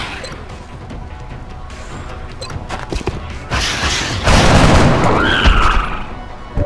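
Gunfire and explosions from the XCOM: Enemy Within tactical video game on iOS, with loud dense blasts and crackling shots building in the second half amid game effects.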